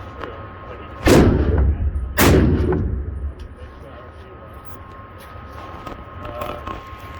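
Two loud gunshots ring out a second apart at an outdoor shooting range, each a sharp crack with a booming low tail, followed by a quieter stretch of faint ambient noise and small distant sounds.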